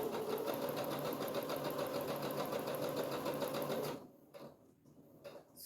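A sewing machine stitches a notebook pencil pouch in a fast, even mechanical rattle for about four seconds, then stops abruptly, leaving faint handling noises.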